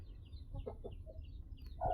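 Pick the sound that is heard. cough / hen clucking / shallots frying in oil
hen clucking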